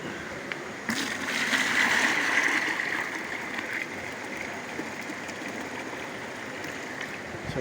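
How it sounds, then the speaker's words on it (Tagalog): Water pours steadily into a container to mix fertilizer for bitter gourd plants, a continuous rushing splash that swells after a moment and then settles into a softer flow, with no talk. "So lagyan lang natin ng tubig guys,"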